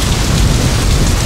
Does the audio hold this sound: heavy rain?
yes